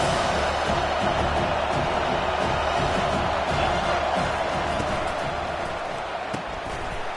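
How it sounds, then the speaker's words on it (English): Football stadium crowd cheering for the defense on third down at a Florida Atlantic game: a dense, steady roar of many voices that holds loud and even throughout, with a faint commentator voice underneath. "Decibels rising as the crowd gets behind this defense on third down."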